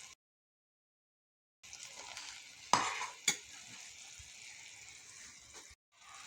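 Liquid chocolate thickens as it cooks and is stirred in a pan, a soft bubbling, swishing texture with two sharp utensil knocks, starting after a short silence and stopping briefly near the end.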